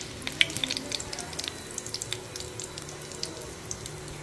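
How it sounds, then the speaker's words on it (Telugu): A tempering with dried red chillies sizzles in a pan for cucumber chutney, making a soft, continuous frying hiss dotted with sharp crackles and pops, close by, with no talking. "తాలింపు వేసానండి అక్కడికి ఫైనల్గాని."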